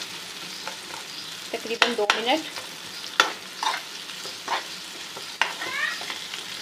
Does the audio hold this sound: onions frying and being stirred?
yes